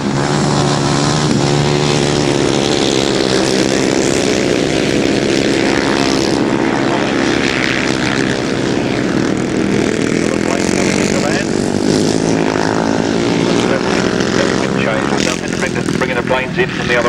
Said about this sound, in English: cracking on the throttle and powering around that turn